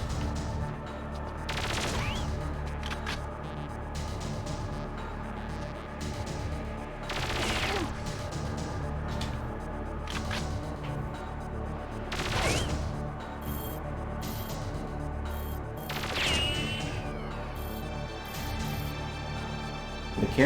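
Sporadic bursts of gunfire in the video game Perfect Dark, several separate volleys spread over the stretch with a steady background hum and some game effects between them.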